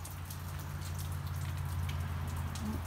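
Rain patters steadily and close by, a dense crackle of drops over a low steady hum, continuing evenly with no voices.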